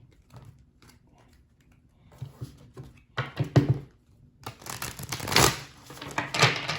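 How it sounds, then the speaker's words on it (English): Tarot cards are shuffled with soft riffling and rapid papery flutters, quiet at first and growing louder in bursts toward the end, with no talking. "now that I got the cards shuffled, let's go ahead and give them a good cut"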